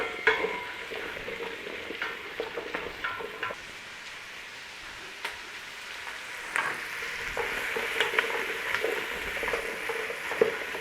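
Garlic, onions and celery sizzle in a pan as they are stirred, a soft steady fry broken by scraping stirs and light clicks of the utensil, with no talking.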